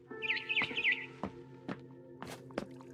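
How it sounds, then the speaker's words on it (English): A barn swallow in the video game What Remains of Edith Finch chirps in quick, high twittering bursts, fairly faint, with a few soft taps and clicks scattered around it. "Then I heard chirping outside my window."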